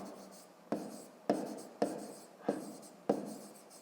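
Pen or chalk writing out a Ukrainian fifth-grade math exercise, five sharp strokes tapping and scraping at roughly even intervals, close and clear with no talk over them.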